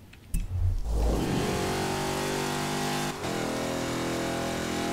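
Chevrolet Camaro IROC-Z engine in Forza Horizon 4 snaps to life and revs hard, then holds a loud, sustained high-pitched drone with a brief dip from a gear change near the end.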